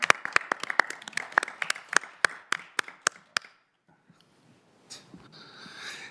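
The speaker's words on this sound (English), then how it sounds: "Yeah, can we applaud?" A small group claps at a county board meeting, about twenty separate claps in loose, uneven rhythm over three seconds. The clapping then stops, leaving near silence and some faint shuffling noise.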